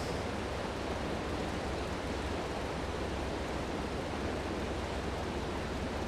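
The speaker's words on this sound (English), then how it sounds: "Actually sounds like you're on water instead of it just kind of being the visual aspect of it." Steady broadband wash of water and waves from Microsoft Flight Simulator 2024, a constant even rush with no breaks, like surf or moving water heard from on the water, moderately quiet.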